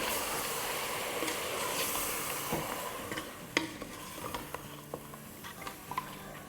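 Meat for korma being stirred with coriander, Kashmiri chili powder and red chili powder: a steady close scraping and stirring over a soft sizzle, with sharper clicks and knocks of the spoon against the pot toward the end.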